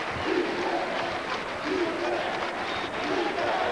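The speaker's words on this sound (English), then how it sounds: "the crowd was too loud" Dense, steady roar of a basketball arena crowd at a UNM Lobos versus Rice game, loud and continuous with swelling murmurs and scattered shouts throughout.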